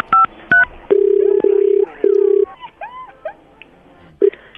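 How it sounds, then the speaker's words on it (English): Telephone dialing tones ring out loud and close: a couple of short two-note beeps, then longer steady tones, followed by warbling chirpy line sounds and one final brief beep, with no one speaking over them. "I'm just going to dial the studio and see if we can hook you up"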